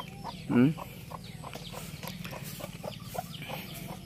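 Chickens cluck in a steady, busy stream nearby, with one louder squawk near the start over a low background hum.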